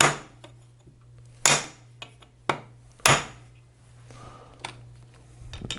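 An aluminum drift rod is struck with a hammer against a transmission countershaft during a four-speed gearbox teardown, giving a few sharp, irregular metallic taps spaced over several seconds, fairly close, with faint clinks and scrapes between strikes.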